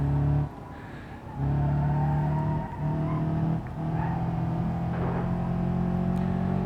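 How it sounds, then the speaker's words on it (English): AI-driven cars in BeamNG.drive rev hard on a Utah road, loud engine notes climbing and dropping in several surges with brief gaps between bursts, close and aggressive, with a faint tyre squeal. "Now please enjoy the AI driving like complete idiots."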